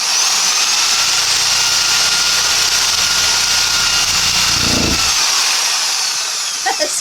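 A jigsaw cuts through a wooden drop-leaf table with a loud, continuous buzzing whine that holds for several seconds before trailing off near the end.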